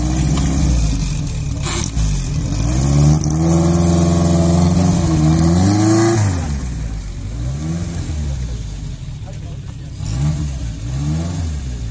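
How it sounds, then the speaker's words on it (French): A classic Alpine A110, over thirty years old, arrives at a vintage car gathering, its mid-pitched engine revving and rising in pitch as it pulls in, then settling to a steady low running note. "Ici, on voit une belle Alpina 110 arriver."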